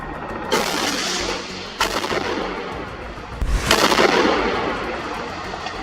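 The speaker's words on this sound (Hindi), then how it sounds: "जिस पर सामने से एक बम या रॉकेट आकर गिरता है, जिसमें जोरदार धमाका होता है।" A bomb or rocket explosion striking an IDF tank in a narrow lane in Khan Yunis, Gaza: sharp blasts hit at intervals, each followed by a rumbling roar, under steady loud background noise.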